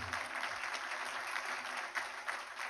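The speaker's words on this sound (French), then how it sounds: "On vous applaudit bien fort." An audience applauds at an awards ceremony, a dense, even patter of many hands clapping steadily, fairly faint and distant, with no talk over it.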